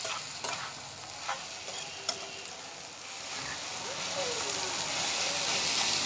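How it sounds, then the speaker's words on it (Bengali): Water spinach (kalmi greens) fry in hot oil with a steady, close sizzle and hiss, broken by a few sharp stirring clicks and scrapes; no voices, and the frying grows slightly louder toward the end. "কলমি শাক দিয়ে দিবে এখন তেলের মধ্যে ভাজবে"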